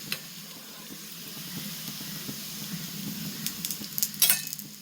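Roti made with drumstick leaves and onion fries in oil on a pan, giving a steady low sizzle that builds toward the end with a few sharp crackles and a brief clatter.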